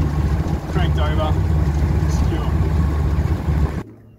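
A Yamaha 40 HP two-stroke outboard motor on a tinny drones steadily and loudly with wind buffeting throughout, then cuts out abruptly near the end.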